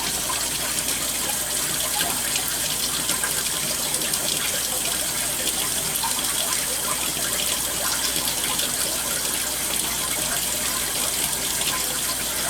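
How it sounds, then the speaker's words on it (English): Gravel concentrates swirled and back-panned in a gold pan of water while placer mining a heavy gravel line, giving a steady close wash of sloshing, gushing water throughout with no voices. "I'll back pan it, so we're just pulling everything to the back"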